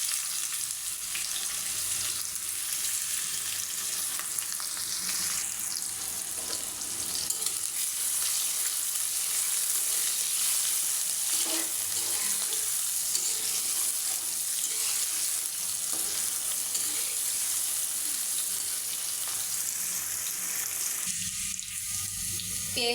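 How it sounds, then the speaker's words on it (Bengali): Chopped onions fry in oil with torn bay leaves for a chicken and dal curry, a steady close hissing sizzle that continues evenly for over twenty seconds, with no talking. "পেঁয়াজটা আমি ভেজে হালকা বাদামি কালার করে নেব।"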